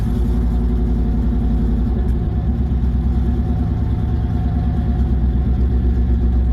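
A 1997 two-door Chevrolet Tahoe with an LS-swapped engine running rough and low on gas, with a steady loud close idle, an uneven pulsing beat and a slight surge midway.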